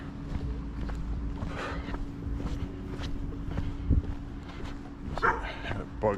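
A big dog barks a few times at a distance during a night walk outdoors, short bursts rising over steady footsteps and a constant low hum.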